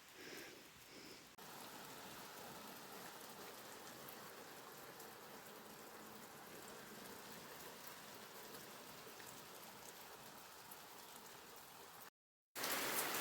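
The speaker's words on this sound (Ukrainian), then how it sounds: "пустився такий шикарний дощик" Steady, dense rain falls outdoors as an even hiss that goes on without a break, then cuts off briefly near the end before it comes back, with no talking.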